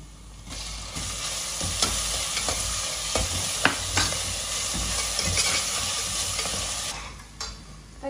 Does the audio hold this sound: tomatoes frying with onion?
yes